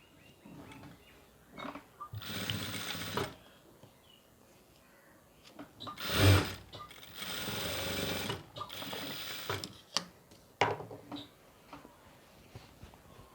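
Sewing machine stitching a skirt pocket seam in a tailoring setting, running in several separate bursts of steady whirring with short pauses between, close and fairly loud, with no talk.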